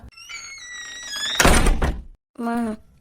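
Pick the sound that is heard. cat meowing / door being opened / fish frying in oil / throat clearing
door being opened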